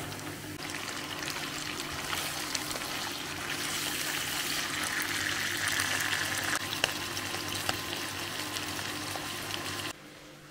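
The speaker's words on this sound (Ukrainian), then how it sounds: "Грибочки смажаться вже 10 хвилин." Mushrooms sizzle and fry in a pan with onion and carrot, a dense continuous crackle close by that swells slightly and then cuts off abruptly near the end, with no talking.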